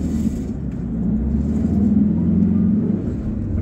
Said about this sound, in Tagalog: Talagang puno lang talaga ng sasakyan